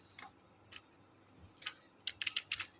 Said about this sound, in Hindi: यहाँ पर आपको नाम टाइप करना है